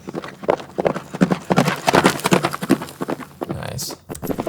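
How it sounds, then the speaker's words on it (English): Horse galloping sound effect being laid into a cinematic scene: rhythmic hoof clip-clops in quick repeating beats, fairly loud and close, with a brief airy swell near the end. "I'm gonna grab some of that horse galloping sounds"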